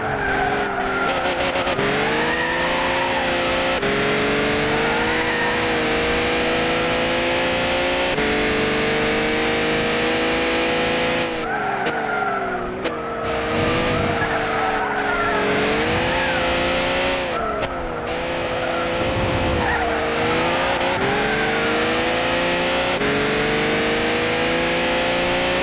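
Race car in a driving video game, engine revving hard and pitching up and down through gear changes while tires squeal and skid almost continuously, loud and steady for the whole stretch with no talk over it.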